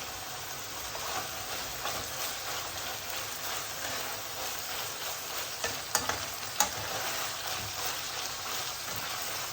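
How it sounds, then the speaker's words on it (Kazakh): Minced meat fries in a pan with a steady, dense sizzle and crackle throughout, with a few sharp ticks and scrapes near the middle and no talking. "осы қуырылып жатқан фаршымыздың үстіне бір ас қасық қызанақ пастасын саламыз"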